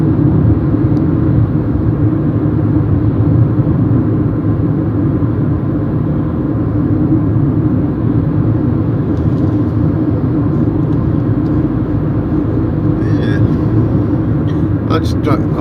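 Steady, loud low engine and road rumble inside a moving car, continuous throughout with no break, with a person talking over it.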